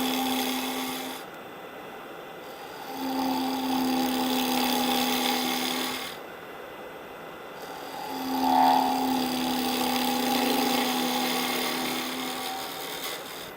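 A carbide tool cuts into a wooden bowl spinning on a lathe, giving a steady rasping scrape in long sustained passes with brief breaks between cuts, close and fairly loud.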